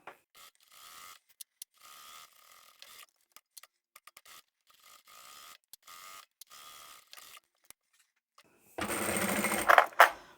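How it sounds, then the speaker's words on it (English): A sewing machine stitches a vinyl handbag seam in short, quiet bursts of whirring with pauses and clicks between them, ending in a louder, busier stretch. "so I'm going to sew up a little bit, backstitch, then I'll leave that gap and sew again at the top end"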